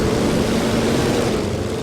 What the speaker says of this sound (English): Good God, those planes are loud.